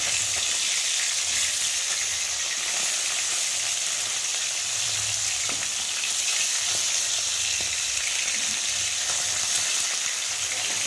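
Bhola fish fries steadily in a kadai, giving a dense, even sizzle and crackle of hot oil with faint scraping underneath. The sound holds close and constant throughout, with no voices.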